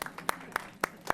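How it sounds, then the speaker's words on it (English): At a city council meeting in Ojai, a few sharp, evenly spaced hand claps ring out close by in a quiet room, four crisp smacks within about a second. "you deserve a round of applause from"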